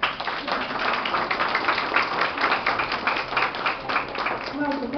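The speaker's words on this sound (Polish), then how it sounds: "Także jeszcze raz brawa." Steady applause from an audience at an academic exhibition event, sustained clapping throughout at moderate level with a slightly muffled, band-limited quality.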